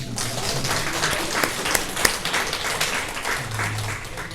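A church congregation claps during a Sunday worship service, a dense, steady patter of many hands close by with faint voices underneath.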